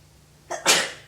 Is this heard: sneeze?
yes